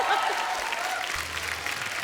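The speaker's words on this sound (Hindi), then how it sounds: "एक बार जोरदार ताली हो जाए" Studio audience at a televised Indian comedy talk show breaks into loud, sustained applause, a dense wash of clapping that carries steadily for about two seconds with no talk over it.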